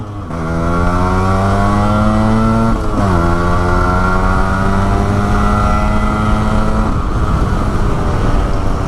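A Yamaha RX135 4-speed motorcycle engine drones loudly and close by, holding a steady buzzing pitch, dipping briefly around the three-second mark and again near seven seconds before settling back.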